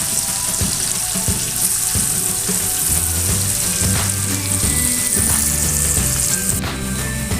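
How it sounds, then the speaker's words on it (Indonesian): Shallots and garlic frying in hot oil for Padang-style chili anchovies, a steady close sizzle with bubbling crackle and occasional scraping stirs throughout, no talking. "Pertama-tama kita goreng dulu bawang merah dan bawang putihnya"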